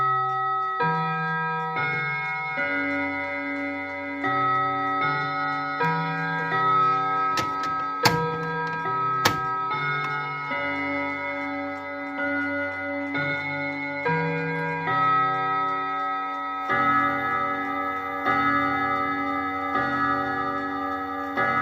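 A 1960s eight-day mechanical clock ticks steadily and evenly at close range for a long stretch, the regular beat sitting over a soft, sustained tonal background.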